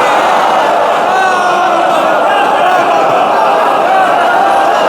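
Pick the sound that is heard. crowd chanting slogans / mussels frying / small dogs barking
crowd chanting slogans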